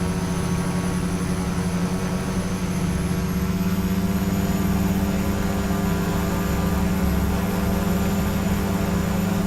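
A Quest Kodiak propeller plane at full takeoff power in X-Plane 11, a loud, steady engine and propeller drone with a rising whine and no break from start to finish.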